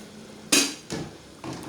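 A spoon scrapes and knocks three times against a pot of grandmother-style Cameroonian peanut sauce with fish, each stroke short and distinct, close and moderately loud.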